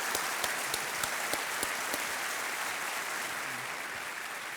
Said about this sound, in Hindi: एक बार और ताली बजा देते हैं